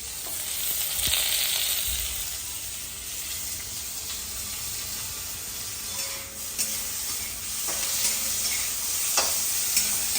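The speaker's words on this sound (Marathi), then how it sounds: "लगेच आपला टमाटर पण त्याच्या टाकू म्हणजे भाजून निघतं" Tomatoes frying and being stirred in a pan while cooking paneer chilla, a steady close sizzle with scraping stirs and occasional clinks of the spoon against the pan, no voices.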